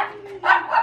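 A pet dog barks and growls in a domestic setting, giving two short close yapping barks in under a second, loud and alone.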